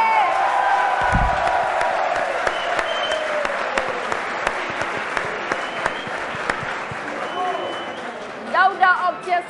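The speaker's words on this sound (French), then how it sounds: "d'applaudir très très fort pour Daouda Zerné" A big, enthusiastic audience at a touring competition final claps loudly and steadily for a performer, a dense wash of hands that runs throughout, with a short burst of voices near the end.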